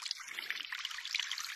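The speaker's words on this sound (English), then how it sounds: "grab your water can, dip in the well, and well, put some water on those" In the VR farming game Harvest VR, a watering can pours water onto tomato plants as a steady, gentle trickle lasting a moment.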